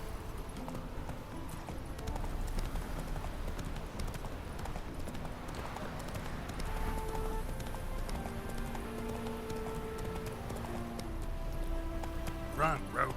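Roach the horse galloping in The Witcher 3, steady rapid clip-clop hoofbeats running throughout with game music and someone talking over them.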